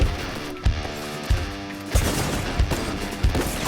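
Video game gunfire: a dense, noisy stream of rapid shots with several louder bursts spaced about half a second apart, steady and close over the whole stretch.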